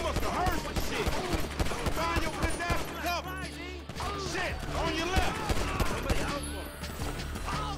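Rapid, dense gunfire crackles through a GTA 5 gunfight, bursts of shots overlapping in steady rhythm with clanking impacts, loud and close, while voices talk over the action.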